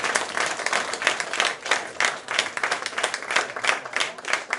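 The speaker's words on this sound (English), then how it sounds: "Give yourselves a big round of applause" An audience at a concert in Munkebo Kulturhus claps heartily, a lively, uneven stream of many hands close by with pulsing swells that keeps going for several seconds.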